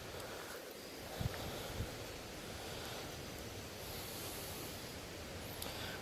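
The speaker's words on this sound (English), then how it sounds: "there's running water in the locks" Water runs steadily through old canal locks from the early 1800s on the Susquehanna, a constant broad rushing wash at a distance, fairly quiet, with a couple of faint knocks and no voices.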